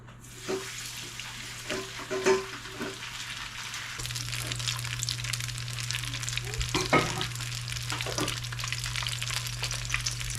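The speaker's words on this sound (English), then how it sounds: "So there's your mac and cheese patty. Right into the hot oil." A mac and cheese patty fries in hot oil, a steady close sizzle with occasional pops and crackles, rising a little louder partway through, no talking.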